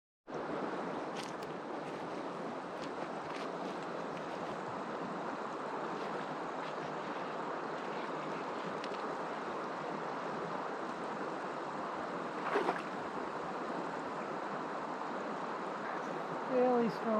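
Rushing water swirls around a swimmer in a fairly strong current somewhere in the Australian Outback, a steady wash broken by brief splashes and wind buffeting the microphone, continuous and close throughout.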